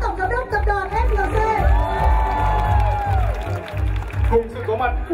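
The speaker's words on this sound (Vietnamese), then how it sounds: "xin một tràng vỗ tay cho MC đồng hành cùng tôi ngày hôm nay" Crowd cheering and whooping for the MC at a large FLC corporate event, with a speaker's amplified voice running over it throughout and the crowd swelling and fading around it.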